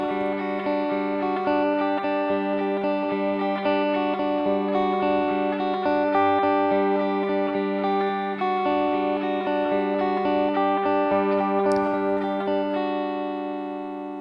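A sustained electronic chord runs through a sine wave LFO modulation effect and wavers in a steady rhythmic pulse, loud and continuous with no voice.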